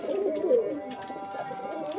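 A pair of pigeons coo softly in low, warbling murmurs nearby, a quiet continuous burble with no clear speech over it.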